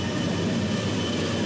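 A westbound oil train passes close by with a Union Pacific locomotive trailing, giving a steady, dense roar of wheels and rail noise with no break.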